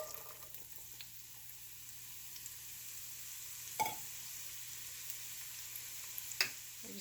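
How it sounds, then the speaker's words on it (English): Chopped onion sautés in bacon grease inside a Dutch oven, making a soft, continuous sizzle with a couple of faint clinks from stirring. "We're just going to saute this for a couple minutes here."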